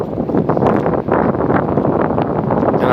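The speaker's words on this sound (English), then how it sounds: "It's kind of windy out here, Salakia." Strong wind buffets the microphone throughout, a loud, roaring rumble with gusty surges and no break.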